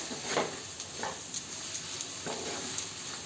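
Mushrooms and peas sizzle steadily in a pan over medium-low heat, a soft continuous frying hiss with occasional faint crackles, close and fairly quiet with no talking.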